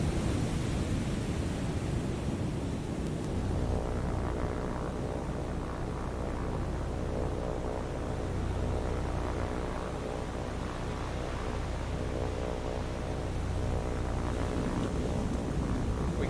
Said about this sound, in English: We found their spotter plane.